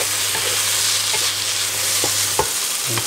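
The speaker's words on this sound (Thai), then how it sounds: "แล้วก็ใส่กะเพรา" Glass noodles with minced pork and holy basil are stir-fried in a wok: a steady loud sizzle runs throughout, with sharp spatula scrapes and clacks breaking in every second or so.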